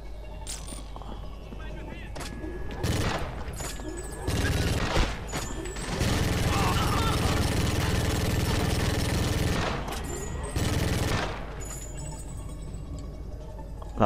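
Gunfire from a weapon in the shooter game GoldenEye: Rogue Agent: several bursts of rapid automatic fire, some brief and one sustained for several seconds, loud and close, with someone talking in between.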